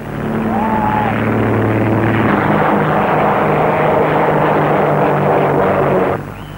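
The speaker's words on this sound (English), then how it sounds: "The remainder take off at 45-second intervals." A propeller aircraft taking off during a long-distance air race, a steady loud engine drone held close for several seconds before easing off at the end.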